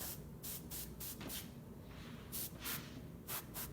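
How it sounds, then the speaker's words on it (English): An aerosol or spray can hisses onto a whitetail deer taxidermy mount during finishing work, in a string of short, close bursts of about a quarter second each with brief pauses between. "And I'm going to spray from an angle to preserve the"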